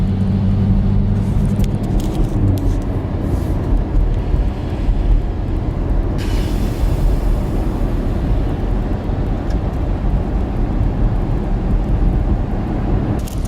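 A Chevrolet Camaro ZL1 with 650 horsepower cruises slowly through a hurricane during break-in, a loud, constant rumble of engine and road noise mixed with heavy wind and rain wash heard from inside.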